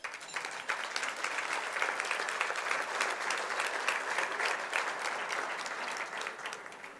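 Sustained audience applause fills the room at a leadership celebration for Camp Susan Curtis, a dense, even wash of many hands clapping at steady loudness for the full stretch, with no voices on top.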